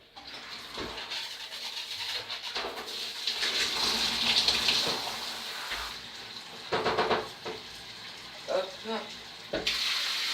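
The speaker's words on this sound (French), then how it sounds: "On va rincer pour voir si j'ai tout bien fait." Tap water runs steadily into a sink while an aquarium is rinsed, a close hissing splash with clattering handling sounds, and a person speaks briefly over it.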